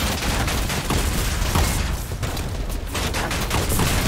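Rapid, loud bursts of video game gunfire crackle continuously in a dense fusillade, with no pauses and no talk over them.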